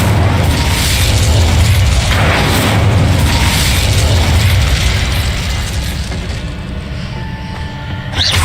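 A fire spell cast in the Hogwarts Legacy video game roars up as a sustained, loud whooshing rumble of flame that fades slightly toward the end.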